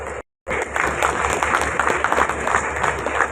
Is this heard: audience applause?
yes